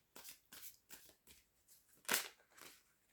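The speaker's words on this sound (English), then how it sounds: "I've said that as I've been shuffling the cards" A deck of cards being shuffled in a run of about six quick papery riffle bursts, spaced fairly evenly, with the loudest burst near the end and no talk.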